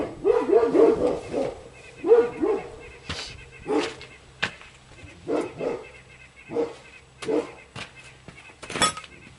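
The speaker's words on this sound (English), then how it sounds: "We got our old guard dogs there." Old guard dogs at a home bark in repeated sharp bursts with a few yips and whimpers mixed in. The bursts come in an uneven rhythm at moderate distance, with no talk over them.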